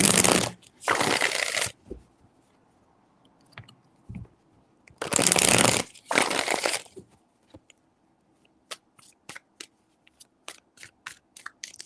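A deck of tarot cards gets riffled in two paired bursts of crisp shuffling, close and loud. A few scattered taps and card clicks follow, with no talking.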